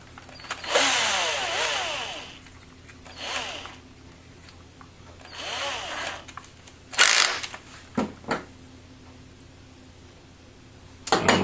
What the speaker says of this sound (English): Put our drill bit in.